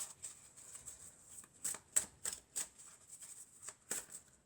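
Oracle cards being shuffled and drawn by hand, a quiet series of crisp papery riffles and flicks coming in irregular bursts, close and soft.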